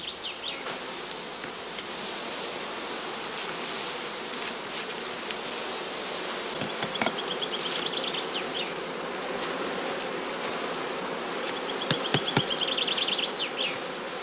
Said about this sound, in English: Second swarm bees are also filled into skeps containing ode comb without honey or brood.